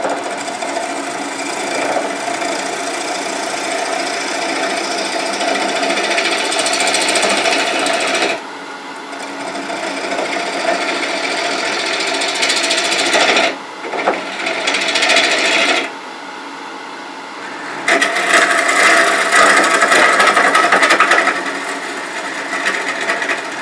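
A lathe gouge cuts into a gnarly red oak bowl with a continuous scraping, rasping whir, broken by a few short pauses where the tool lifts off, close and fairly loud.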